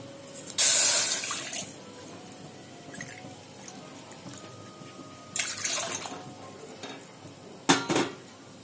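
Water splashing and pouring into a metal pot of rice flour nearby, a loud rush at first, then clinks of the vessel and a second brief pour.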